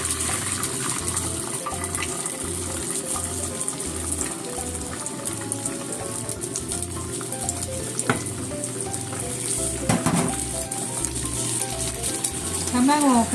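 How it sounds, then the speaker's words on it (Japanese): Eggs stir-fry in oiled frying pan while preparing a carrot and egg stir-fry, a continuous soft sizzle with scraping stirring strokes and occasional utensil clinks, fairly quiet throughout. "先にね、卵を炒めときましょう。"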